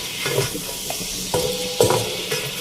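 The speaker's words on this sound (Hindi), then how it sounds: "इन साबुत टमाटरों को और साबुत हरी मिर्चों को इस चिकन के साथ मैं यहाँ पे थोड़ी देर फ्राई करूँगी" Chicken fries in a karahi with whole tomatoes and whole green chilies, giving a steady sizzle under sharp scraping stirs and a few clanks of a spoon against the pan.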